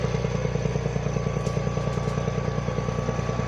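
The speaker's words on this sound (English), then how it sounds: "Whenever the tractor is digging, the birds are here." A tractor engine runs steadily while digging and clearing land for planting vegetables, a close, even mechanical drone with a regular pulsing chug and light clatter throughout.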